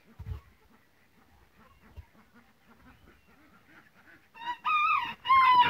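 Soft, low chicken murmurs and clucks build slowly, then loud, nasal squawking calls burst out close by near the end.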